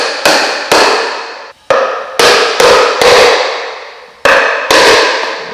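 Loud, sharp hammer blows driving nails into the wood of a sawhorse, eight hits in uneven pairs and singles, each ringing briefly before the next.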